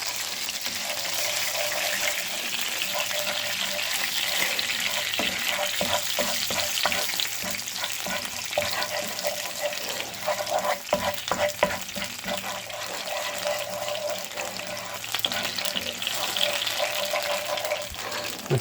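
Toffee melting and sizzling in a hot frying pan, a continuous crackling sizzle with scattered pops and stirring scrapes, close and steady throughout.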